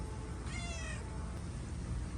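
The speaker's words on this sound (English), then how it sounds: "My cat decided to come over and say hi." A house cat gives a single clear meow at close range over a constant low hum in a garage where a 1995 Mercedes S500 is being worked on. Nobody speaks.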